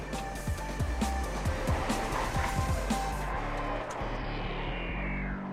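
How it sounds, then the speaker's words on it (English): A car drives hard on a slippery road, its engine loud and steady as it shifts up a gear, then the tires scrub and squeal briefly under heavy braking before the noise fades. "So we'll hit fourth and go hard braking."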